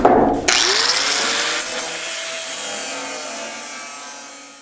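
A power tool cuts into the steel bed side of a 1973-87 Chevy GMC Squarebody truck, a loud grinding whine that starts sharply and rings on, fading slowly.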